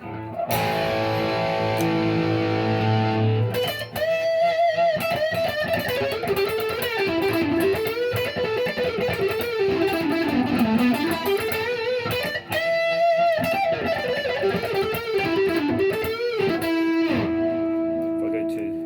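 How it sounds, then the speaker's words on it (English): A loud 2013 Gibson M111 reissue electric guitar with heavy overdriven distortion plays a sustained, gritty melodic run, held notes ringing between phrases. "But this thing belongs in the overdriven distortion."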